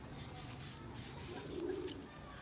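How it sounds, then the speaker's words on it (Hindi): A pigeon gives a soft, low coo partway through, faint against a quiet background hiss. "ये देखें ये कबूतर है"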